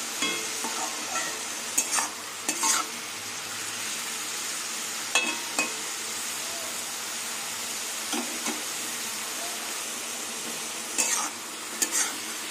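Onions and red amaranth greens fry in a pan with a steady close sizzle, broken by scraping stirring strokes that come in small clusters. No one speaks.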